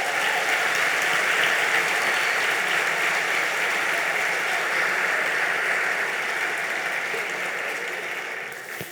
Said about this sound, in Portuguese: Você pode dar uma grande salva de palmas para essa turma toda aí?